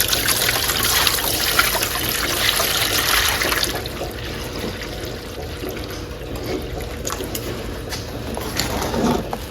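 Water trickles and pours into the tray of a lapidary trim saw, filling up to the blade, a steady close wash that continues throughout with no talk.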